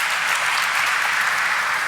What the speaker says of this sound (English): A special applause for them.